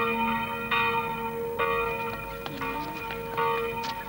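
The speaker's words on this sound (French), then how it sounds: "la cloche sonna lentement le glas pour Tom Sawyer et Huckleberry Finn" A single church bell tolls slowly in a funeral knell on a Sunday morning, each ringing strike recurring at steady intervals about a second apart with long sustained overtones hanging between them.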